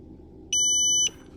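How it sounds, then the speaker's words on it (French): An ACDP2 key programmer working on a Porsche smart key gives a single long, steady electronic beep of about half a second, loud and clear over faint background hum. "Et puis tu écoutes jusqu'à ce que tu aies un long bip"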